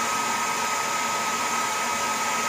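Roidmi F8 cordless stick vacuum running at its highest setting, a steady, loud, hissing whine of rushing air with a high-pitched motor tone, constant throughout with no talk.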